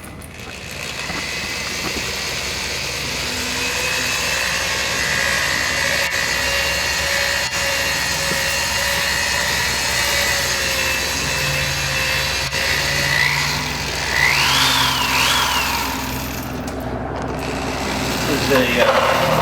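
A power drill with a mixing paddle steadily stirs a two-part, two-to-one concrete floor coating, a continuous whirring hum at even loudness that rises slightly near the end, with no talk.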